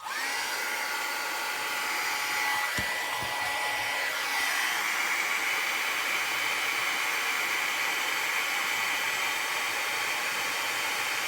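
Heat gun blowing as a steady, loud airy hiss throughout, melting embossing powder on a thin-cut metal embellishment during papercrafting, with a couple of faint knocks early on.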